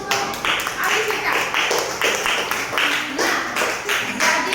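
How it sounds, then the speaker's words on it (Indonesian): Students in a classroom clap together for a classmate, a steady patter of applause with bursts of hands swelling and fading, while a teacher's voice talks over it. "tepuk tangan dulu untuk Alisita"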